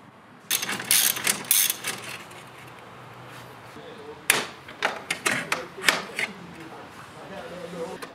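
A ratchet clicks in two spells of short bursts while working on a Mercedes C63 AMG with the M156 engine, near and fairly loud over a quiet background.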